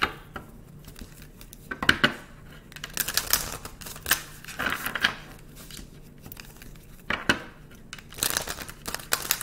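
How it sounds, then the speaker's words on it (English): Papery tarot card shuffling comes in bursts of crisp riffling and flicking, with short pauses between, close and fairly loud. "I'm shuffling the wrong cards"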